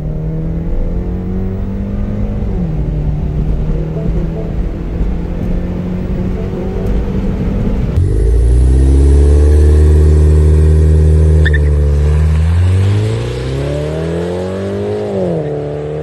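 Mini Cooper R55 engine on a track, revving up through gears with rising and falling pitch, loud and close, pulling hard in the second half before easing off; no talking.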